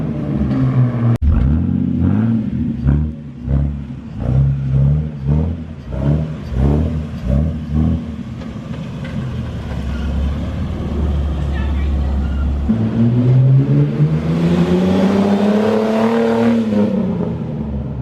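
A straight-piped Jeep Wrangler exhaust revs in loud, choppy bursts, then settles into a steady drone as it drives off and later swells again nearby, with people talking and shouting excitedly over it.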